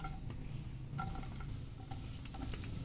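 Sliced onions fry in a tablespoon of hot oil in a pan, a quiet low sizzle with occasional soft stirring scrapes, faint and fairly close, no speech.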